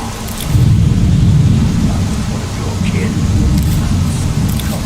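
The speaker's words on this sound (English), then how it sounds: "to get ahead of this blasted rain before we continue the story." Heavy rain with low, rolling thunder from a Skyrim storm, a steady, loud, dense wash of noise with a deep rumble swelling throughout.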